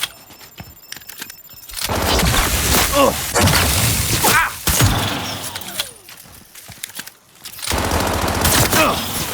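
Gunfire rattles through a firefight in the video game Cyberpunk 2077, loud bursts of automatic weapons and overlapping shots in long dense stretches with brief lulls, mixed with voices and game effects.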